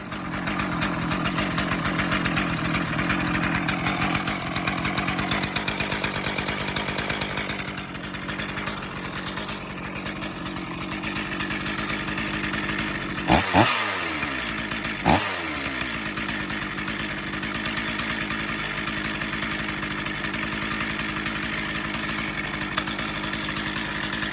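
A Stihl MS440 chainsaw runs steadily near the listener, a loud, continuous two-stroke drone with a few brief throttle blips partway through, and no talking.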